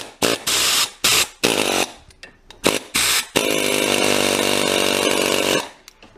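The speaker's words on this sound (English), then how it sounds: "Today, I found a new way, and it's using just a regular air hammer." An air hammer rattles in several short loud bursts against a seized vise jaw bolt, then runs in one long sustained hammering burst before stopping.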